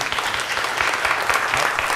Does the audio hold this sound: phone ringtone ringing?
no